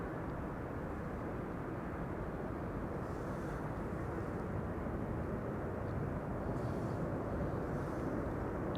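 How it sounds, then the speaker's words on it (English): An Air Canada Boeing 777-200 long range arriving from Toronto at Amsterdam Schiphol produces a constant, fairly distant jet roar, even and unbroken across the stretch. "next up is going to be a Canadian 777-200 long range"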